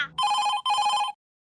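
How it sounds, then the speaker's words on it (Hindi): A telephone rings twice in quick succession, a bright electronic trill with two even bursts close by, then falls silent. "ऑफिस से फोन क्यों आ रहा है?"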